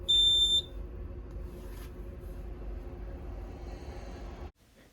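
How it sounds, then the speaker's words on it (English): A fire alarm gives a single short, piercing high-pitched beep at the start, close and loud, followed by a low electrical hum and faint rustling during fault-finding work on a building's wiring. "My goal was finding the fire alarm ground fault"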